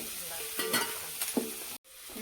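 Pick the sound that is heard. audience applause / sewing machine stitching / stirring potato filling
stirring potato filling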